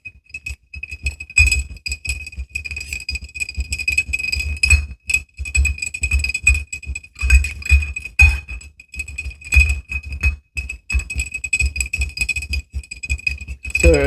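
Ice clinks against a glass as a cocktail is stirred, bright repeated taps and chimes in an irregular rhythm, close and fairly clear, with no talk over it.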